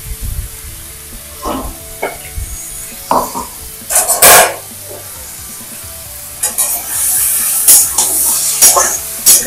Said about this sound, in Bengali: এখন মাংসগুলোকে মনে হচ্ছে কষানো হবে।